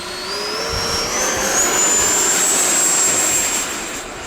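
A Havoc Xe RC jet takes off with a loud, steady turbine whine whose pitch climbs as the model accelerates, then fades slightly toward the end.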